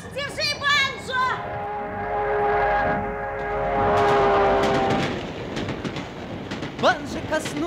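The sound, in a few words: oncoming train passing, radio drama sound effect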